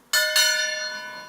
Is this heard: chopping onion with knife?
no